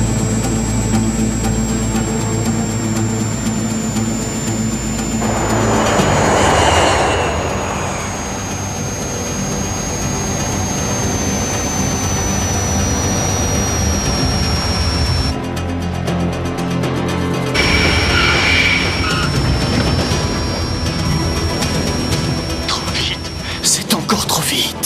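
Aircraft jet engines roar steadily during a landing approach, a loud continuous whine with a high tone that slowly shifts, while voices talk over it throughout.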